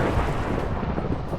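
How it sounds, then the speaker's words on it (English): Deep, continuous rumbling thunder in Minecraft Skyblock, loud and broadband with rain-like hiss throughout and no talk. "It's still thundering."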